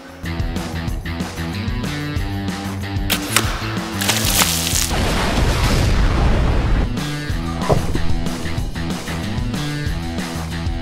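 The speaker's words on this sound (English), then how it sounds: "We'll bring in that watermelon ball and see how big of an explosion we can get off that." An arrow strikes an exploding watermelon target during a bow test, producing one loud, broad, roaring burst midway that fades over a couple of seconds, heard over steady background music.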